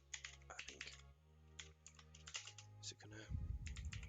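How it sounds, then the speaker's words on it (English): Keys clatter on a computer keyboard while code is written for a Unity physics project, a close, steady run of quick irregular taps over a faint hum, with a louder thump near the end. "I'm gonna start by typing stuff out."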